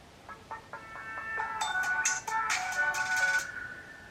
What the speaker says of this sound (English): And that is one of the greatest startup sounds of all time.